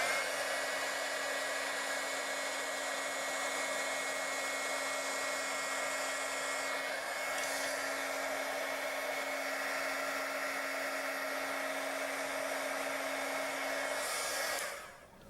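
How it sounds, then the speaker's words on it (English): Steady blowing whir of a heat gun warming a 3D-printed color-changing plastic plaque, a constant close drone with a faint tonal hum that runs unbroken for about fourteen seconds before cutting off. "I have a heat gun that I can heat this thing up"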